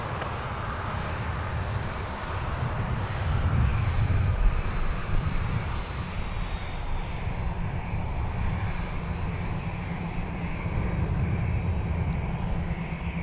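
An airliner takes off from runway 12 left at Minneapolis–St. Paul Airport, its engines giving a steady, moderately distant roar and low rumble throughout.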